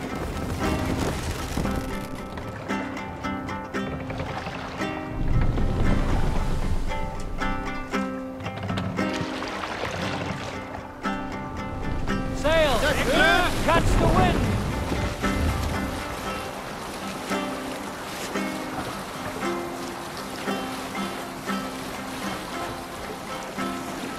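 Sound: sailing wind on a ship, from the video game Assassin's Creed Valhalla

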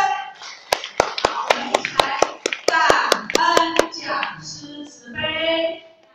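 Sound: audience applause in gratitude

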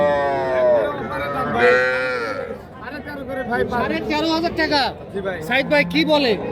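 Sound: cattle lowing at a cattle market

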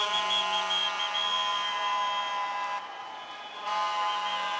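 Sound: spectators blowing whistles and vuvuzela at swimming pool

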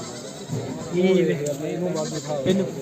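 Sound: goat bleating at a livestock market

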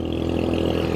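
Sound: Royal Enfield Hunter 350 motorcycle engine while riding

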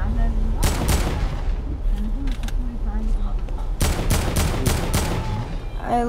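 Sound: AK assault rifle gunfire in Fortnite video game

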